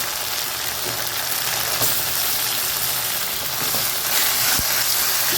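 Tomatoes sautéing in a hot pan for a spicy green peas kurma, a steady close sizzle that holds throughout, with a faint low hum behind it and no voices.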